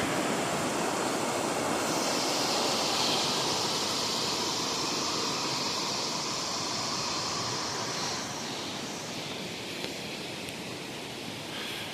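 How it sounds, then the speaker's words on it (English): Snowmelt river on the Wind River trail up Eagle Cliff Mountain in the Rockies, rushing and raging downstream as a steady, loud broadband roar that holds without pause throughout, with no voices. "This is all snow melt ripping and raging down the river."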